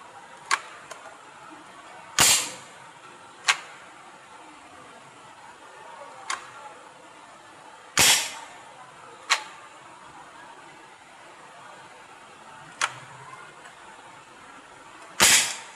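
An 8mm steel ball gun fires empty, with no ammunition loaded, giving sharp loud cracks at irregular intervals over a steady hiss; several louder shots alternate with quieter snaps.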